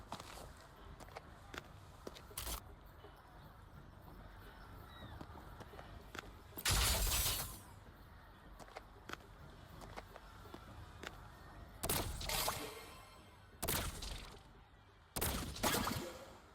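Shots fired in a Moon Shooter fair minigame at a Moon-Chasing Festival in a video game, quick bursts of gunfire and shattering hits between sparse clicks, fairly loud against a quiet background.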